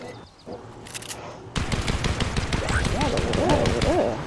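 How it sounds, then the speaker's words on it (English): Gunfire from other players in Fortnite erupts after a quiet moment, a rapid string of shots near a tower, loud and sustained, with a few hooting tones mixed into the barrage. "That's not us shooting."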